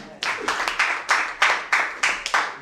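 A church congregation claps together in a quick, steady rhythm, roughly ten bright, loud hand-claps over two and a half seconds.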